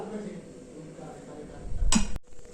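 Pulao and aloo dum being served onto plates in a home kitchen, with a sharp burst of dish and cutlery clinks near the end over low background noise.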